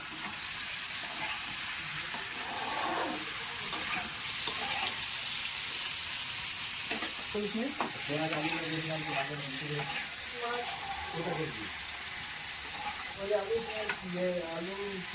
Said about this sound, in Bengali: এখন সীতাহার মাছটা মা রান্না করছে